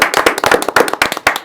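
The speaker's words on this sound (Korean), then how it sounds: "박수로 환영합니다." A studio audience claps in welcome, loud and near, a rapid run of sharp hand claps with no voices over it.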